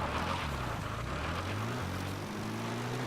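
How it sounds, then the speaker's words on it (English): A helicopter flies away in Metal Gear Solid V: The Phantom Pain, a steady low rotor and engine drone holding at an even level for a few seconds with no speech over it. "even if it's my helicopter that's flying away"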